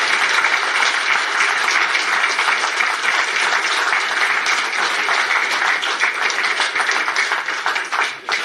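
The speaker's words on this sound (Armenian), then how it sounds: "ուզում եմ բոլորս ծափահարություններով շատ ուժեղ ողջունենք այդ մարդկանց" A large crowd applauds loudly and steadily at a political gathering, a thick continuous roar of clapping that fills the space from start to finish with almost no letup.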